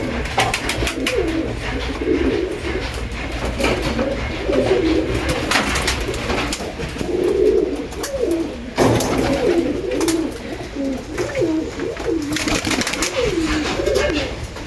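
A female pigeon in heat in a breeding loft coos like a male, giving repeated rolling coos in a steady rhythm for the whole stretch, close and clear over light background noise.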